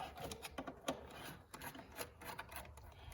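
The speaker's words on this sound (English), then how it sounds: "So I'm going to go ahead and take this air box out." Air box being pulled out of a Chevrolet Silverado engine bay during an alternator replacement: close, irregular rubbing and scraping of plastic with small rasping knocks, no talking.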